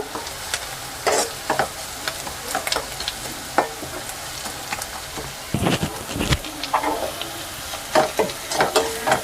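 Curry leaves fry in hot oil in a pan for vada curry, crackling and sizzling close up while a spoon stirs and scrapes in irregular bursts.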